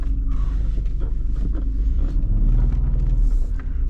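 A 1992 BMW E34 520i with the M50 six-cylinder engine and a 25i rear exhaust, driven on the road, gives a steady, deep engine rumble that swells slightly midway, heard close and continuous without talk.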